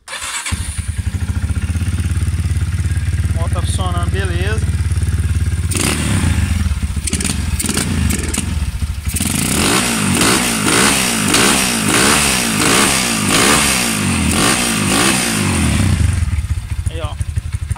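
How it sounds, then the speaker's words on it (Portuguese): A motorcycle engine fitted with a Koso part sputters and catches, then idles and revs unevenly with rapid popping pulses, close by and loud throughout. "eu não tenho a manha de mexer com carburador, mas a moto tá funcionando."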